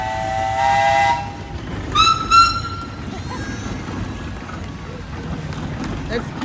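A steam traction engine at a steam show sounds its whistle in short tonal blasts, first one steady toot and then two quick shrill bursts, over a low background rumble with people talking nearby.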